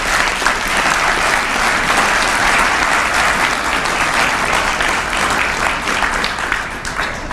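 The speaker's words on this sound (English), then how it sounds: "I ask for a round of applause for this fine organization." An audience at a chemistry award ceremony applauds, steady dense clapping from a large crowd that holds for several seconds before tapering slightly at the end.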